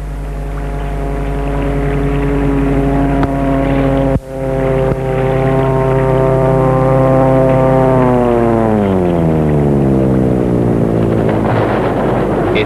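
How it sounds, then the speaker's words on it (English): Engine of a ram air ground effect craft, a Tandem Airfoil Flairboat by Günther W. Jörg, a loud droning propeller hum with a strong steady tone that bends downward in pitch as it runs on. "Its full title is a ram air ground effect craft."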